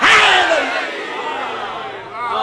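Crowd at a Shia majlis e aza gathering shouting a religious naara in unison, a loud massed roar of many voices that swells at the start and holds steady.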